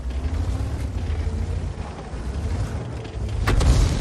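In World of Tanks, a heavy KV-2 shell slams into a tank, a loud low boom over a constant rumbling engine drone, with a sharp crack and swelling blast near the end.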